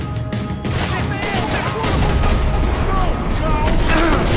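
Dense gunfire, explosions and debris from shattering office property in the video game Max Payne 3, a loud continuous barrage of shots and crashes with scattered voices mixed in.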